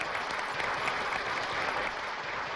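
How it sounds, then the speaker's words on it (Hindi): A studio audience on a comedy show applauds steadily, a dense, even burst of clapping filling the whole moment. "चलिए एक बार आप मिलकर तालियां बजा दीजिए ताकि हम आज के कार्यक्रम की शुरुआत करें।"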